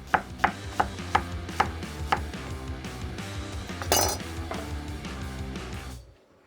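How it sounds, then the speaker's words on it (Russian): An onion chopped with a knife on a board for a vegan pilaf: about six crisp, evenly spaced knife strikes, then a brief clatter of utensils, all close and alone, ending abruptly. "Сразу нарезаем лук."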